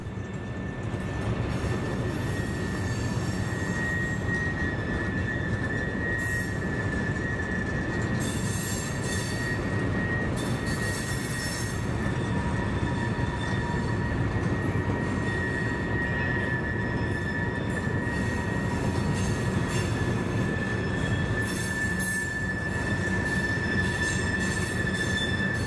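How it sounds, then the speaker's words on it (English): A long train led by several locomotives grinds steadily around a curve with loud, sustained wheel squeal ringing over the rumble of cars on the rails, no voices. "The front locomotives have reached the south end of the curve"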